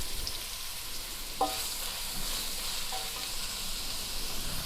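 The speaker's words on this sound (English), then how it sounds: "Then add the thinly sliced onion, some salt and a bit of green pepper, which is optional" Thinly sliced onion with salt and green pepper sizzles in oil in a saucepan over medium-high heat, a steady hiss broken by a few soft clicks of stirring.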